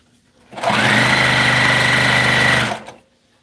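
Sewing machine stitching a folded hem on the front of a dress, one loud continuous whirring run of about two seconds that starts and stops abruptly, with a bright high whine over rapid needle chatter.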